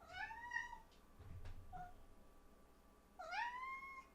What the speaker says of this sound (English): The cat is now here.